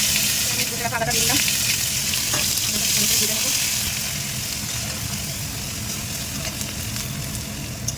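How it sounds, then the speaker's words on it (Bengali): Grated ginger fries in a pan of oil with bay leaf, dried red chilli and cumin, making a loud, close, continuous sizzle with brief stirring clatter near the start. "এটাকে ভালো করে ভেজে নিই। এর মধ্যে আমি ঘষে রাখা আদাটা দিয়ে দিলাম।"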